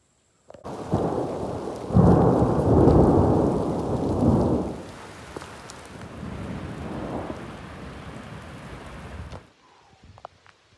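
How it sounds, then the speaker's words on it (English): Heavy rain with some hail drums loudly on an Ozark Trail six-person instant tent and tarp during a campsite storm, a dense steady roar that swells and eases before cutting off near the end. "It's even hailing a little bit."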